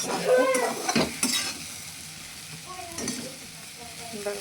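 Okra frying in a pan after cumin powder, salt and garlic were added, giving a soft crackling sizzle with a few stirring scrapes and utensil taps, fairly close, with no talk over it.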